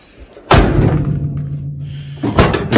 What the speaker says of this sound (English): when you shut this door